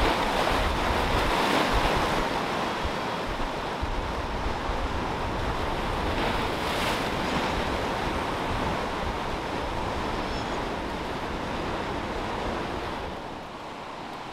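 Lake Erie surf rolls and crashes continuously nearby during a spring storm, mixed with gusting wind buffeting the microphone; no voices, the roar easing slightly toward the end.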